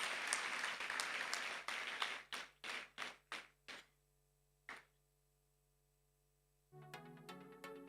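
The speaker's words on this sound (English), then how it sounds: "A huge round of applause, please." Audience applause at a college award ceremony: a burst of dense clapping that thins into a few separate claps, then one lone clap after a pause before other sound begins.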